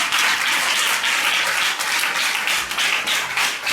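A church congregation breaks into dense, continuous applause, many hands clapping loudly together in a full, roomy wash with no voices.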